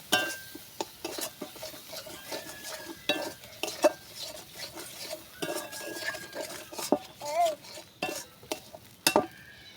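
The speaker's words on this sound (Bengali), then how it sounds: "দিয়ে নাড়াচাড়া করে দেবো।" Cashews, white seeds and cumin paste stirred in a pan, with a utensil scraping and clinking against the metal in uneven strokes over a faint sizzle; close and moderately loud, no talking.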